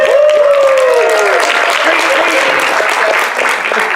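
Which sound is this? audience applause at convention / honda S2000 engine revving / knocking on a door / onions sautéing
audience applause at convention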